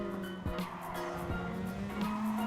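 Tires squeal through a slide in a Gr.2 race car in Gran Turismo Sport at the Red Bull Ring, rising tonal screeches over a steady engine drone, loud and close.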